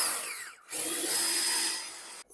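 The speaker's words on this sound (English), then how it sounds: "Drill the hole." A power drill fitted with a hole saw bores through wood in two bursts, a short first cut then a longer steady grinding whine that stops abruptly, close and loud.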